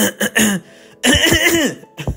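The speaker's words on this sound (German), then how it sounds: "ich werde einfach das nächste Lied husten für euch" A person coughs and hums out a tune in loud, close bursts, with rough throaty coughs and voiced sung tones between them.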